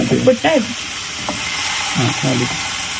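Chicken fries in a little oil in a pan, a loud steady close sizzle running throughout, with brief speech-like voices near the start and again toward the end.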